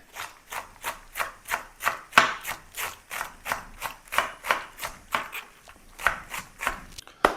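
Rapid, even knife strokes finely slice young cabbage against a cutting board, dozens of crisp chops in a quick, regular rhythm, close and clear.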